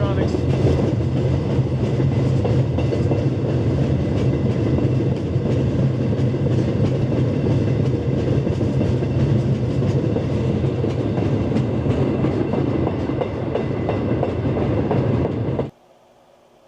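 Steady, loud rumble of a train rolling along rails with a continuous rhythmic clatter, heard from on board, ending abruptly.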